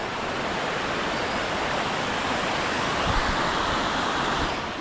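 Water rushes steadily over rocks in a low-flowing stream, a continuous, broad and fairly loud wash with no voices.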